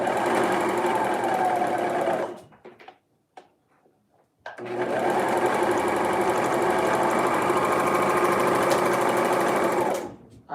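A sewing machine stitches on a garment sleeve, running loud and steady for about two seconds, pausing briefly, then running continuously again for several more seconds before stopping.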